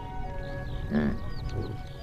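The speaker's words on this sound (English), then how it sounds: "Yaks don't moo, they grunt." A yak grunts once in an open highland pasture, a short low nasal call at middle distance over steady background hum, followed by a fainter second sound.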